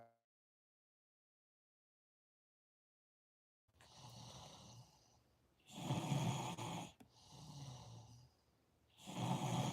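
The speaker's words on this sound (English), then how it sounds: "This girl is snoring her ass off." A woman snores loudly and close by after a stretch of silence, with three drawn-out, rattling snores in a slow, even rhythm.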